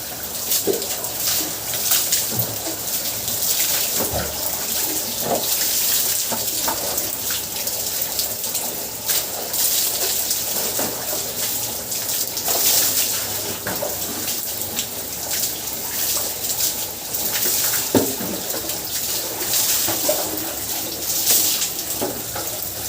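Water pours steadily from a tap during an outdoor bath, a continuous moderate gushing and splashing with occasional louder splashes and faint bird calls in the background.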